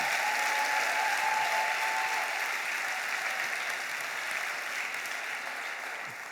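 A church congregation applauds during a sermon, producing a broad, continuous wash of many hands clapping at moderate distance that eases slightly toward the end, with no speech over it.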